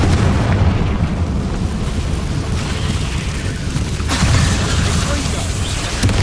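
The Confringo spell goes off in Hogwarts Legacy: loud, dense booming blasts with bursts and rumbling effects fill the whole stretch, with a sharper burst near the middle.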